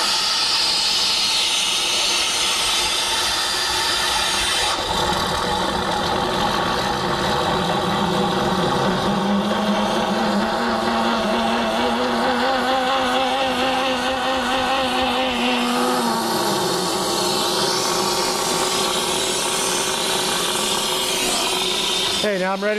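A ToughTek S340e piston pump running while pumping base coat from a hopper gives a steady, loud mechanical hiss and drone with a rising-and-falling motor tone, continuous throughout with a voice speaking over it.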